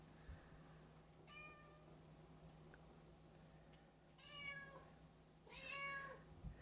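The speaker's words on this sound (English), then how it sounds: "It's my kitty." A pet cat meows three times at a relaxed pace, fairly close, over a steady low hum in a quiet room where someone is painting spring flowers.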